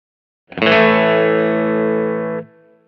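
A single sustained note through a Kemper Profiler rig set for a distorted bass sound, with a sharp attack, a rich harmonic sustain held for about two seconds, then a quick cutoff with a short fading tail, loud and alone.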